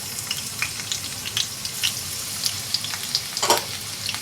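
Garlic fries in about two tablespoons of hot oil in a preheated wok, giving a steady close sizzle with soft crackles and a louder burst of spitting near the end.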